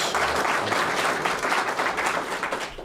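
A recorded applause effect played on a radio program, with a crowd clapping steadily and loudly throughout.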